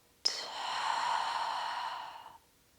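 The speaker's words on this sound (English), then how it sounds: "let's take a full breath in and breath out" Single long exhale during a yoga flow, a soft, breathy sigh lasting about two seconds, close and clear against silence.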